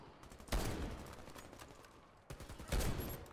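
Truvelo CMS 20x42mm rifle firing in the video game Warface: two heavy, booming shots about two seconds apart, each with a sharp broadband crack and a long rumbling tail, set over steady game background noise.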